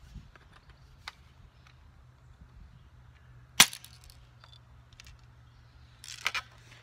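Airsoft Uzi fired into a lump of clay putty, heard as one sharp, loud snap near the middle and a cluster of quicker cracks near the end, over a quiet low hum.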